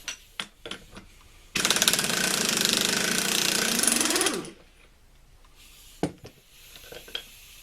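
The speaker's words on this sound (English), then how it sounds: "With this locked, we're going to also take off the front yoke nut." A T-90 transmission's front yoke nut being loosened from the transfer case with a power tool, heard as one loud, sustained rattling burst of about three seconds, close by, framed by scattered clanks and taps of tools.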